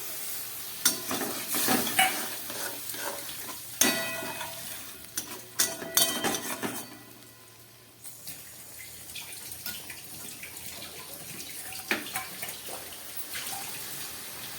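Spices with garlic, green chilli, onion and a splash of water being stirred and sautéed in a pan for a fish curry, with scraping spoon strokes and bursts of sizzle that settle into a quieter simmering hiss, no talk.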